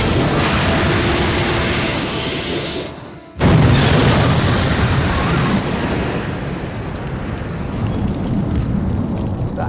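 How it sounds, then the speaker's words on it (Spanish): A ship blowing up after a submarine attack in the Atlantic during wartime: a sudden heavy boom hits after a dip, followed by a long roaring rumble and surging wash like burning water and surf. "Tras una enorme explosión, todo el barco y el agua ardieron."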